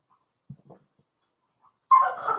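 Dogs in a home kitchen give a short low whimper, then after a pause break into a loud, bright burst of barking and yelping that fills the last half second.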